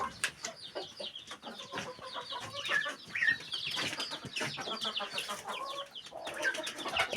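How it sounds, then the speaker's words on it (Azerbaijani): Chickens at a hidden nest cluck and squawk continuously nearby, a busy, overlapping chatter of several birds with no talking. "Bakın arkadaşlar. Toyuqdur."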